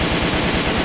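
Rapid automatic fire from an AN94 assault rifle in the AVA shooter game, a dense, loud, continuous burst of gunshots with no pauses, heard alone.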